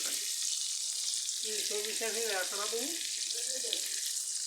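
Fish fries in hot oil with a continuous loud sizzle, while a voice briefly speaks over it in the middle.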